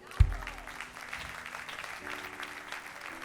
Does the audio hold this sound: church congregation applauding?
yes